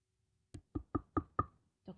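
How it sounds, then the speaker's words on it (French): Knocking on a door in a children's story: five crisp, evenly spaced knocks in a quick row, close and loud against silence, followed by a sixth after a short pause. "Toc, toc, toc, on frappa à la porte."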